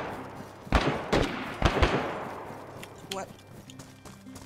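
Several sharp gunshots ring out in a DayZ firefight, a few spaced cracks with rolling echoes fading into the distance, while players talk over the shooting.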